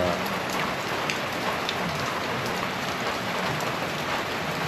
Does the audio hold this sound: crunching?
no